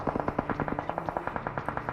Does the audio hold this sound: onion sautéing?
no